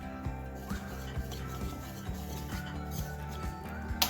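Yogurt batter fermented overnight for jalebi being stirred and mixed in a bowl, a soft repeated rubbing and scraping in a steady rhythm, close and fairly quiet.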